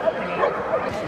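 At a dog show, dogs give short yips and soft whimpering barks in quick succession, close by, while people talk over them.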